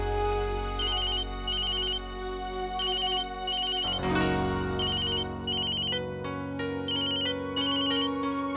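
A phone ringtone ringing indoors, repeating bright electronic beeps in regular bursts over a musical background, fairly loud and continuous.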